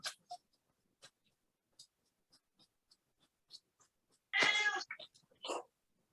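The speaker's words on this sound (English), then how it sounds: "I hear a kitty." A cat meows once, loud and close, in an otherwise quiet indoor room, with faint scratching and small taps before it and a short softer sound just after.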